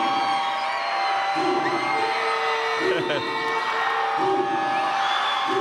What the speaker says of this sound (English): We'll let you hear the crowd right now. It's so loud